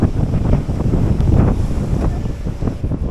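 Heavy wind buffets the microphone in a continuous loud roar at full throttle on an E-twow Booster V waterproof electric scooter, swamping all other sound.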